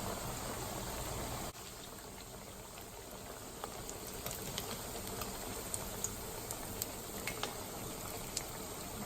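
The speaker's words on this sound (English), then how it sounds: "what you're really trying to do is get them fried" Salt fish fritters fry in hot oil with a steady, dense sizzle and scattered small pops and crackles throughout, close and continuous.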